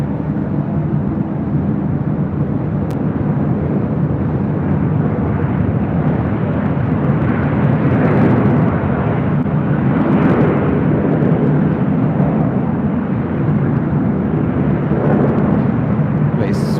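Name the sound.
Spirit Airlines Airbus A321 jet arriving on runway 25 right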